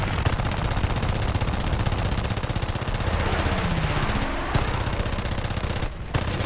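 Guns of a P-26A-33 fighter in War Thunder air combat fire in long, rapid continuous bursts, loud and close over engine drone, with two brief gaps between the strings of fire.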